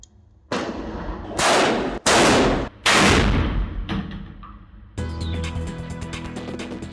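A shotgun mounted on an EOD robot is fired at an explosive's detonator, giving three loud, close blasts about a second apart, each with a long echo, followed by a lower, rumbling tail.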